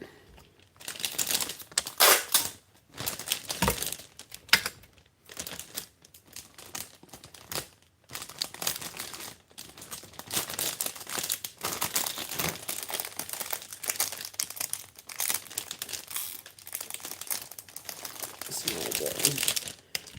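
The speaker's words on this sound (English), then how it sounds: "I'm over here fumbling with this bag and this tape" Plastic bag and tape crinkling and rustling close up, with irregular crackly bursts, brief tearing sounds and short pauses, under intermittent talk.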